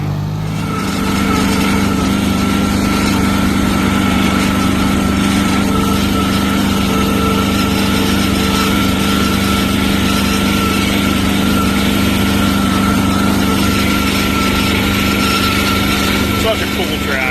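A John Deere tractor engine runs continuously at a steady loud drone, close by, without pauses.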